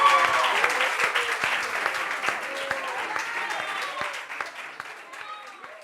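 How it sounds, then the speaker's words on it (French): Studio audience applauding as a guest makes her entrance on a French television reunion show, dense steady clapping with some cheering throughout, while a host's voice carries faintly over the crowd. "On va l'applaudir"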